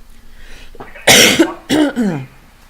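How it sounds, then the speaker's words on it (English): A person coughs several times, a few harsh bursts close up with short pauses between them. "Sorry about my coughing."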